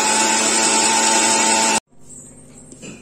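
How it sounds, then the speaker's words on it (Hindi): An electric blender whirs loud and steady as it mixes cold coffee with milk, then cuts off abruptly, leaving a short stretch of quiet handling noise. "अब इसको मैं ब्लेंड कर लेती हूँ।"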